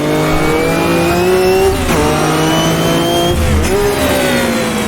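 A race car in the Automobilista 2 racing game screams at high, steady revs close up, its engine pushed to over-revving with a brief dip and recovery partway through, loud and uninterrupted.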